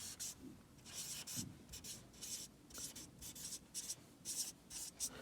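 A pen writing maths on paper in a Year 2 lesson, soft close scratching strokes coming in short repeated bursts with brief pauses, faint and alone with no talking.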